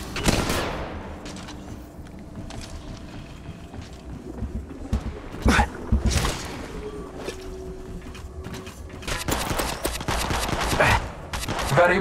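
Gunfire from the mobile battle royale game Apex Legends Mobile, with scattered shots and short bursts mixed with clanks and game effects, building into denser firing toward the end as squads clash.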